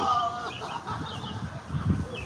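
A hen clucks loudly and insistently nearby, a run of short, throaty calls with a higher squawk at the start, mixed with some background voices.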